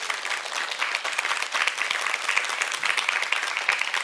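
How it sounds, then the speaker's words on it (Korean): An audience applauding during a talk by a children's author, a thick, even wash of clapping from a large crowd that holds steady at full strength for the whole stretch. "박수 한번 주세요"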